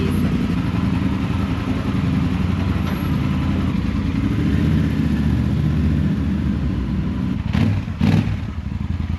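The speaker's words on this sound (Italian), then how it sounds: "pian pianino sentite il motore aumenta di giri perché la centralina si setta con l'altezza" Engine rising in revs at high altitude as its control unit adjusts, a continuous rough mid-pitched drone with mechanical clatter, loud and steady throughout with a brief dip near the end.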